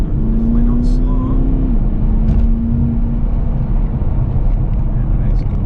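A Porsche Cayenne 4.2 TDI V8 diesel sits on a dyno and drones loudly up close in one sustained pull, its low engine note holding steady with a slight pitch shift while people talk over it.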